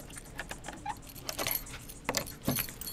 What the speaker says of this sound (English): The keys back in the pocket.